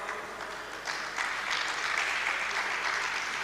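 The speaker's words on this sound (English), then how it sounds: "Please make him welcome with your round of applause." Conference audience applauding a speaker being welcomed at a digital technology event, a broad wash of many hands clapping that swells after a second and stays steady, heard from within the room.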